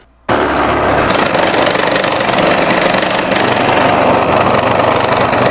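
A stepper motor driving a homemade robotic arm runs loud and steady, a continuous close mechanical drone with coil-timing roughness that starts abruptly and holds without a break.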